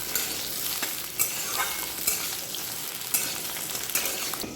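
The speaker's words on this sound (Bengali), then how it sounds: "গোটা জিরে ফোড়ন করলাম আর ছোলা কচু আলুটা দিয়ে দিলাম" Whole cumin tempering in hot oil with taro and potato pieces frying, a dense crackling sizzle up close with a few sharp stirring clatters spread through, no speech.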